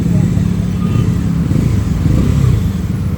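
A passing motorcycle's exhaust growls loud and close during a bike ride, a dense, steady low rumble throughout with no clear gaps, partly mixed with indistinct voices.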